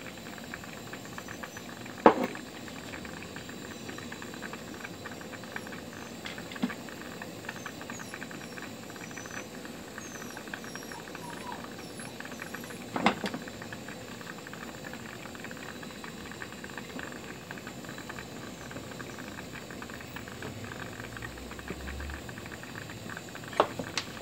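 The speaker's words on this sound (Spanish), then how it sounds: "el vapor va a tirar para arriba y ya que haga presión" Water boils in a homemade distiller built from a recycled thermos, a steady low bubbling and faint hiss of steam with occasional sharp ticks and pops and no talking.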